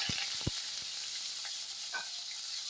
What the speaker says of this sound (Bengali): এই পেঁয়াজ কুচি দিয়ে দিচ্ছি